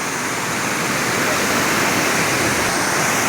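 Fast-flowing water of the Basistha Ganga stream, a steady, loud, close rush of churning water with no pauses throughout.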